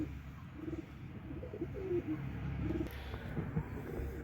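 A desi pigeon sitting on eggs in its clay nest pot coos softly and repeatedly in low, rolling phrases, close by, over a steady background rumble with faint distant traffic.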